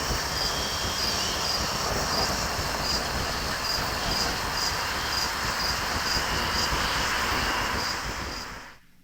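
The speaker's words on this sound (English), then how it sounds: "I love the sound of the crickets sitting by the campfire." Dense, steady chirping of many crickets fills the air, with the low rumble of a passing airplane beneath, ending in a quick fade.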